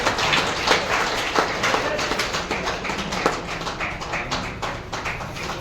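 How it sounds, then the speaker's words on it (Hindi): Warm applause fills the room at a retirement ceremony held at an ESI dispensary in Nandnagri, a continuous, fairly loud wash of many clapping hands with no break. "जोरदार तालियां।"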